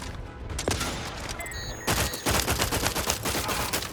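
Bursts of rapid gunfire from a sci-fi shooter game, starting with a few scattered shots and swelling into a dense, loud volley of overlapping fire after about two seconds.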